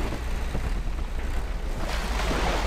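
A truck in Spintires Mudrunner ploughs through water, giving a steady rushing, splashing wash with low engine rumble underneath, loud and continuous throughout.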